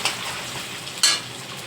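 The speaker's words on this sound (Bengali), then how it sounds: "এখন কষিয়ে নিচ্ছি মাটনটাকে" Mutton sizzling as it is sautéed in a pan, a steady frying hiss with a sharp stir or scrape about two-thirds of the way through, close and moderately loud.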